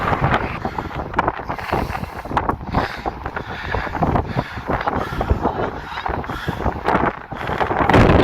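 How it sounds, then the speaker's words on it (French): Strong gusting wind on Île de Ré buffets the microphone continuously, a loud rumbling roar with no other clear sounds. "Il y a du vent les amis."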